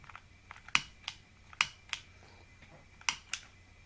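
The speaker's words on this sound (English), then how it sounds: "They click when I move my chair." Wires click as an office chair is moved, giving a scattering of sharp, light clicks at irregular intervals over a quiet room background.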